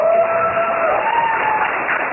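Steady applause from the audience at a peace seminar in Pyeongtaek after a keynote lecture, a dense continuous patter with a faint tonal hum running beneath it throughout.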